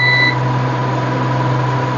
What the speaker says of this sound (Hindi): मीटर को बजर मोड पे सेट करते हैं